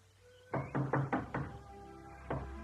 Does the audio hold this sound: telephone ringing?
no